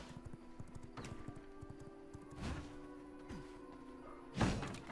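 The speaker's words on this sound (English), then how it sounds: "Slow horse." Hooves of a horse in the V Rising video game clopping at an irregular pace under steady game ambience, with a few heavier thuds standing out near the end.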